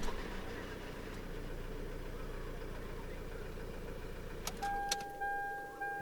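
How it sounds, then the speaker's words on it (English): A 2000 Toyota Land Cruiser Prado turbo diesel settling into a low, steady idle with a faint rumble, followed by a few brief clicks and a soft electronic chime. "Give you a quick look at the engine start here."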